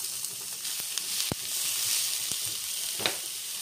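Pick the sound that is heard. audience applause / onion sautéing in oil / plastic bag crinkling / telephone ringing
onion sautéing in oil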